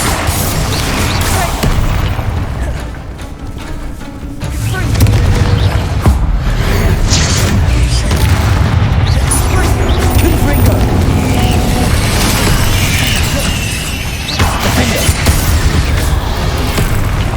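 Booming blasts and crashing rumbles of a Bombarda spell in Hogwarts Legacy, heavy low-end explosions layered over continuous game noise, loud and sustained with a few sharper bursts.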